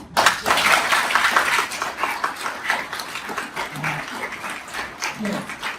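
An audience claps loudly and continuously at a motivational talk on subconscious mind power, a dense wash of many hands with scattered voices in the crowd.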